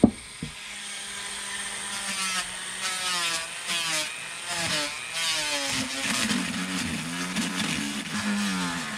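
A Dremel rotary tool sands a carved wood Santa spirit lightly with sandpaper, a continuous buzzing whir that rises and falls in pitch as pressure on the wood changes.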